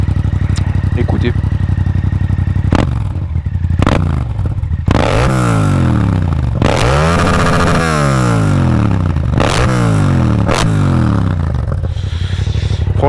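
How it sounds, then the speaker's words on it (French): A Yamaha MT-07 2020 twin-cylinder motorcycle engine revs loudly several times, rising and falling in sharp swoops, close up and alone. "je vais vous la démarrer les gars. Elle fait vraiment un joli bruit."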